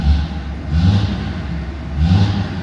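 A Dodge Ram 2500 pickup's 5.9L Cummins high-output diesel engine runs close by with a deep rumble, rising in two brief revs.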